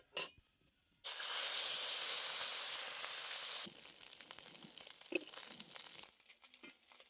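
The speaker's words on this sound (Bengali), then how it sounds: "এবারে আমি সব কটা মাছ ভেজে নেব।" Mourala fish dropped into hot mustard oil in a wok burst into a loud, dense sizzle after a short quiet start. It then settles into a softer, crackling fry with scattered pops, and no one speaks.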